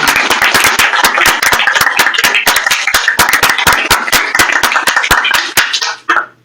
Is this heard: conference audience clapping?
yes